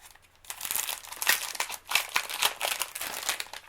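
Close, busy paper crinkling and rustling in bursts, like wrapping being pulled and crumpled by hand.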